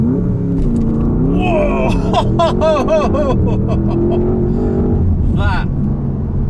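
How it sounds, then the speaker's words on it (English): A 2021 Porsche Panamera Turbo S facelift launching on launch control, its engine surging and rising in pitch through rapid gear changes on a road, loud and close inside the cabin, with a passenger exclaiming and laughing over it. "let's see what this Turbo S can do on launch control"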